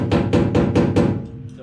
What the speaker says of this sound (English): Tap with rubber mallet.